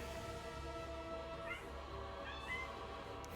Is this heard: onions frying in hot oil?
no